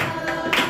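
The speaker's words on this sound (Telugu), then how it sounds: "చప్పట్లు కొడుతూ" A couple of quick hand claps keep time with a Telugu Christian worship song, sounding over sustained music in a brief, evenly spaced rhythm.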